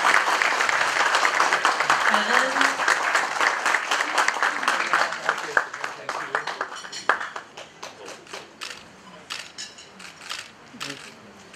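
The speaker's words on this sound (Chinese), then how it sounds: "来，我们再次把热烈的掌声献给他" Warm applause from an audience at a board of directors installation ceremony, full at first, then thinning into scattered claps as it fades; a brief voice speaks near the end.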